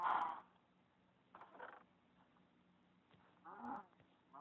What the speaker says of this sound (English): I'm sorry, cow.